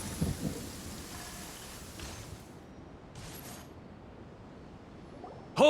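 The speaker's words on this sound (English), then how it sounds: "Without lightning to give warning, the sound of thunder is quite startling." Video game thunder rolls in as a low, distant rumble over a steady rain-like wash, fading out with a softer crackle of sky noise before a sudden loud burst near the end.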